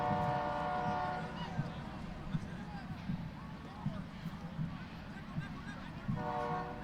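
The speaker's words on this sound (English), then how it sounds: "So another train." A train passes near a Friday night high school football game, its horn sounding in long sustained blasts at the start and again at the end, with a steady rumble of rail cars rolling through in between.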